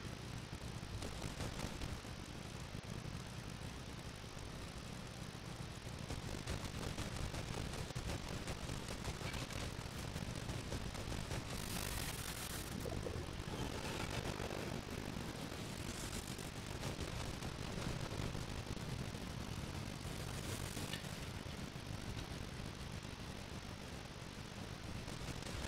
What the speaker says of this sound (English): I just crashed his plane